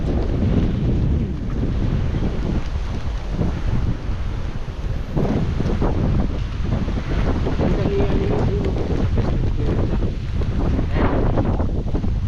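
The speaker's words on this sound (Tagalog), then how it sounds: "Lakas ng hangin." Strong wind buffets the microphone in heavy, continuous gusts, a loud low roar with the faint wash of water beneath.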